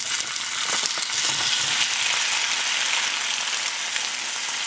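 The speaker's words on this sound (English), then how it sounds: "I'm going to just pour this in the pan." Sesame ginger jackfruit sizzles steadily in a hot pan, a loud continuous frying hiss with faint crackles throughout, no voices.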